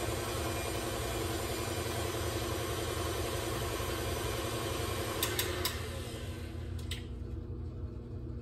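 An electric mixer whirs steadily at a higher speed while mixing pear cake batter, a constant dense hum throughout with a few faint clicks near the end and no talking.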